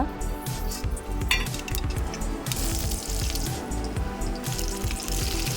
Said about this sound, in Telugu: అందులో కొద్దిగా ఆయిల్ వేసేసి పోపు దినుసులు, ఆనియన్స్ వేసి బాగా